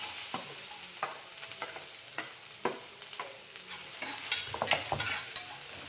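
Cumin, curry leaves and onion frying in oil with mustard seeds, a soft steady sizzle punctuated by repeated clicks and scrapes of stirring.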